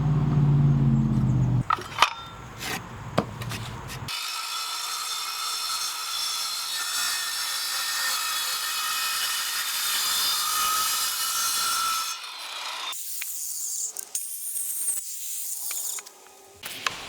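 A power saw cuts a rabbet into reclaimed 2x lumber, a loud sustained whining cut lasting several seconds, preceded by clattering handling noises and followed by the motor spinning down with lighter knocks.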